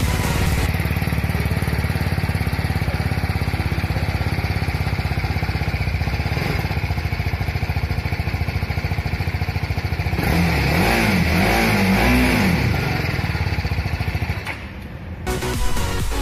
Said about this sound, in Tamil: இப்போ இந்த பைக்குடைய எக்ஸாஸ்ட் சவுண்டு கேட்டர்லாம்.